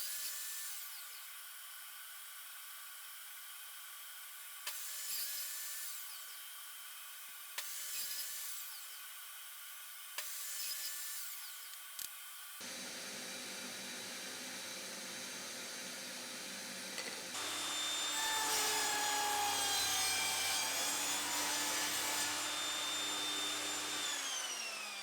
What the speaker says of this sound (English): I'm going to use my table saw to cut out a notch where this will go inside and will act as a runner.